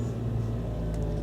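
A car on a quick test drive after an ABS wheel sensor was replaced in the steering knuckle, giving a steady low engine and road rumble throughout, close and continuous, with no talking.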